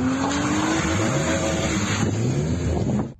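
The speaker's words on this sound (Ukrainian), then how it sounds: "Ось як розважалися власники спортивних авто біля каравану." Sports cars drive on an icy, snowy road beside a convoy, with engines revving steadily and tires squealing in long skids, loud and close, ending abruptly.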